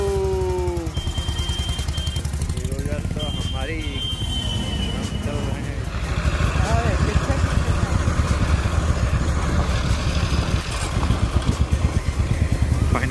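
A restored 1942 Matchless G3LS motorcycle engine runs steadily throughout, its low rhythmic thrum building louder partway through, with voices talking over it.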